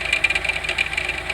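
A GM engine runs with a knocking and clunking fault, a fast, steady, rhythmic tapping over a continuous mid-pitched running hum, loud and close.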